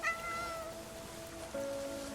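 A cat meows twice in the video game Crimson Desert, a rising, drawn-out call followed by a second, steadier meow, close and clear against soft ambient background with no talk.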